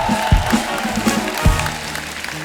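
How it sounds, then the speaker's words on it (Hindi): A studio audience at The Kapil Sharma Show breaks into loud, dense applause with a few sharp, prominent claps standing out near the start. "एक बार हमारे मेहमानों के लिए जोरदार ताली हो जाए"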